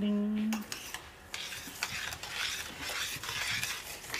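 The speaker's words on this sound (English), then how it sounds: "I kind of saute it till it gets a different look to it than the raw rice" Raw rice being sautéed and stirred in a pan, a steady scraping, rasping stir with faint sizzle running through the clip after a brief tone at the start.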